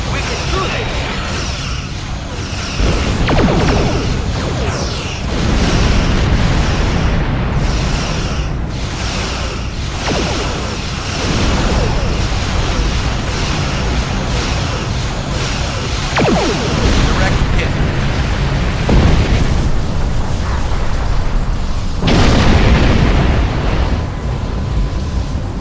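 Starship weapons fire and explosions in a Star Trek Online battle against Borg spheres, a dense, loud barrage of booming blasts, whooshes and crashes layered continuously throughout, with voices speaking over the din.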